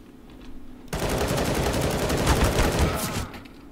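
Automatic gunfire in Counter-Strike: Global Offensive, a sudden loud sustained burst of rapid shots starting about a second in, then cutting off near the end.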